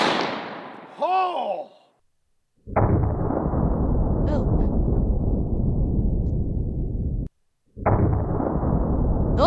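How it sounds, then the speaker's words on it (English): A .500 Magnum bullet cast with JB Weld fires from a vise-gripped handgun with one loud, close blast and a long rumbling echo, followed by a second sharp report; a voice exclaims just before the shot. "500 Magnum JB Weld bullet."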